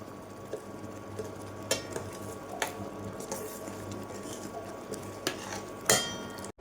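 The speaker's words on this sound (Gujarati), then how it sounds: "ત્યારબાદ જે આપણી દાળ છે તે આમાં એડ કરી દઈશું." Moong dal goes into a cooking pot with a few sharp metallic clinks and scrapes of a spoon against the pot, spaced out over a quiet kitchen background.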